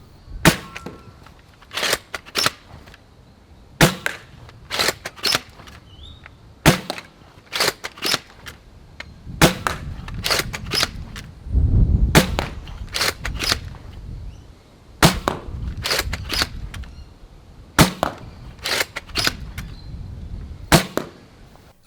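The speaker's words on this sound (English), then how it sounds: "here's how the super high configuration is actually shooting" A Caliburn Nerf sniper blaster with K31/K25 springs and a 14-inch aluminium barrel fires repeatedly over a chronograph, giving loud, sharp, close cracks spaced about a second apart, with some clunks of priming between shots.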